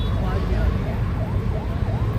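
An ambulance stuck at road barricades during a protest by company employees in Noida Sector 62 wails with a steady, rising-and-falling siren under dense crowd and traffic noise.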